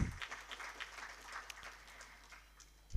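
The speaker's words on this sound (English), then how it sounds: "let's give another big round of applause" Scattered applause from a crowd at a tech summit evening session, fairly soft and distant, fading over a few seconds.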